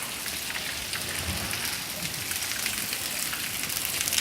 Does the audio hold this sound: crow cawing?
no